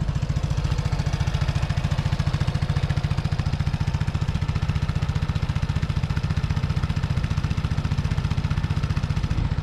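A pull-started Vespa scooter engine idles steadily up close, a continuous low pulsing putter with no pauses and no voices.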